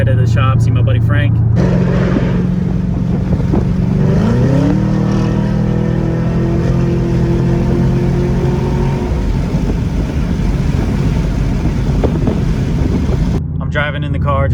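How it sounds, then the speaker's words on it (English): A 2018 Chevrolet Camaro ZL1 cruises at low RPM, its deep steady drone rising in pitch once as it gently accelerates, recorded close inside the cabin with someone talking over it. "Driving in the car just normally right now."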